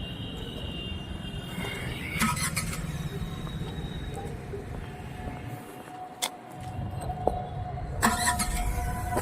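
A car engine starts during a driving lesson, leaving a steady close engine hum with a few sharp mechanical clicks and knocks over the running motor.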